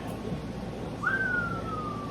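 A single sustained whistle rises sharply, then slides slowly downward and holds as one faint tone over a low background murmur.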